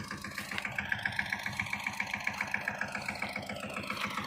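A tractor engine idles steadily nearby, with a regular chugging pulse and a faint whine over it throughout.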